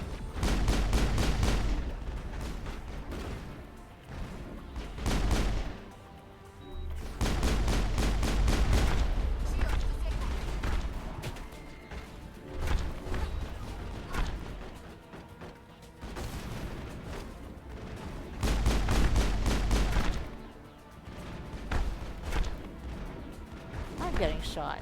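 Gunfire in the video game Mass Effect comes in long, loud, dense bursts broken by brief lulls, with a voice talking between and over the shots.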